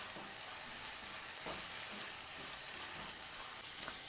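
Roasted masala paste for a Chettinad mushroom gravy frying in a pan, a quiet, dense, even crackle that continues without a break, with a few soft stirring knocks.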